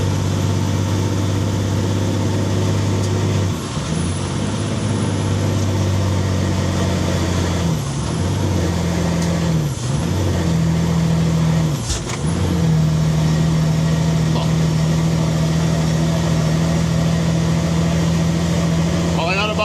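A rig-moving truck's engine runs near maximum RPM with a loud, constant droning roar, punctuated by a few brief dips and hissing air-brake releases, heard from inside the cab.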